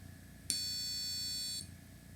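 A sharp click starts a bright, high electronic tone from a piezo buzzer driven by an Arduino, holding steadily for about a second before cutting off.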